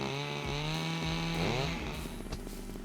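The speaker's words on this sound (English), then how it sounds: "it didn't turn off the chainsaw" Chainsaw engine running steadily in the survival video game SCUM, loud and continuous with a droning tone that dips and shifts pitch midway before settling into a rougher idle.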